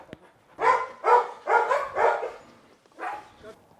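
A dog at a dog training and boarding centre in Cameroon barks several times in quick succession, close and fairly loud, with a short pause before a final bark.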